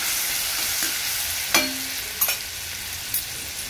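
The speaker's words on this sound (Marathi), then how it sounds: "तेल गरम झालं की त्यामध्ये 1 चमचा मिरची बारीक करून घेते" Finely chopped green chilies sizzle in hot oil for a fasting potato bhaji: a steady, close frying hiss with a few brief clinks of stirring.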